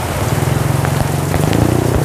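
Heavy rain pours steadily, a dense, continuous roar of drops on surfaces close by, with no voices over it, during flooding on a road.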